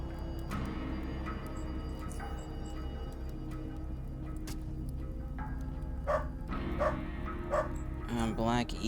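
A dog in the video game UnderRail barks and yips in a few short bursts over steady droning game ambience, with a person talking over it.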